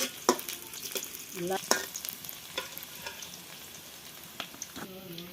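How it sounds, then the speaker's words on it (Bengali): Onions frying in a pan, with a soft steady sizzle broken by scattered clinks and scrapes of stirring. No one speaks. "এই সময় পেঁয়াজ ভাজা।"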